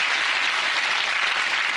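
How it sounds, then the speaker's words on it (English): An audience at a live stage show applauds, a dense, steady wash of clapping heard up close and alone for a couple of seconds. "Give her a big round of applause, ladies and gentlemen."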